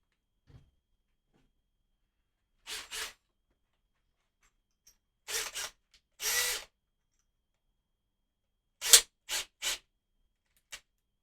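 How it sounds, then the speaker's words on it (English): A power drill runs in short separate bursts while making an acoustic guitar body inlay, a few quick whirs spaced apart with silence between, close and fairly loud. "Grab our drill."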